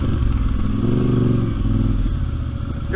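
An ATV engine labors and rumbles as it rides rough over bumpy terrain, a loud, close, throbbing drone with rattling clatter throughout.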